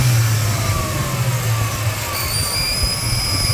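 A car engine runs near and loud with a rough, uneven low rumble, a thin whistling hiss from a vacuum leak riding above it and shifting in pitch partway through, with no voices.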